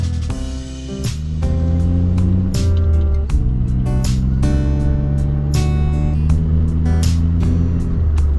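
A Suzuki Jimny JB23 drives a short road from a campsite to a hot spring, its engine humming steadily with rising and falling revs and gear changes, loud and close from inside the cabin.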